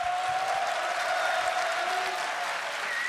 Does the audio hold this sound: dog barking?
no